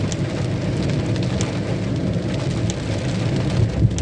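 Dense, steady rain hisses continuously, a broad wash of sound with occasional sharper drops and a low rumble beneath.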